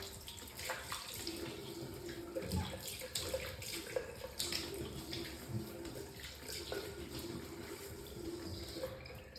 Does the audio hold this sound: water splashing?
yes